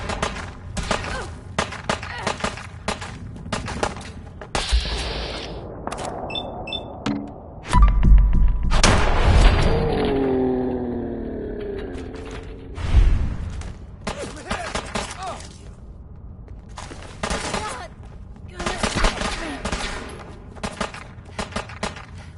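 Gunfire bursts crack and thump in a Fallout 4 firefight on PS4, with shots, impacts and a shattering hit scattered over about twenty seconds, alongside game voices.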